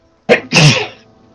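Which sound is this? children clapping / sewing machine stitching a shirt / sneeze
sneeze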